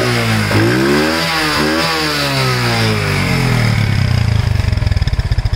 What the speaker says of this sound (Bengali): আপনাদের অ্যাক্সেলেটর বাড়িতে দেখাচ্ছি।